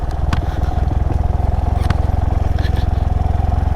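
A Honda Monkey 125 motorcycle rides off-road on a trail, its small engine thrumming in a steady low, even pulse close by, with occasional clatter and scrapes from the bike bouncing over rough ground.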